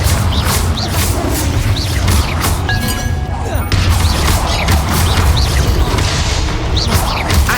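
Bombarda and Confringo spell blasts in Hogwarts Legacy, loud booming and crashing impacts in a steady barrage, with sharp whooshes and cracks layered over a dense rumbling battle bed.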